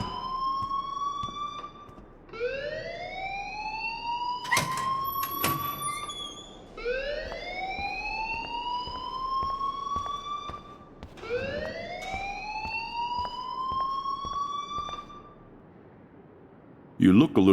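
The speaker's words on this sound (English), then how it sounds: "please turn off that alarm since that's your job" A school alarm in the Life is Strange video game wails in repeated rising sweeps, each tone climbing and holding, loud and continuous across the scene with voices and clatter mixed underneath.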